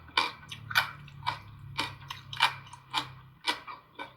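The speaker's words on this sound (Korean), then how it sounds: "파파야도 아주 단단하니 식감이 아삭 아삭 아삭." Crunchy papaya fruit kimchi is chewed close up, with about eight crisp, evenly spaced crunching bites over a low steady hum and no voices.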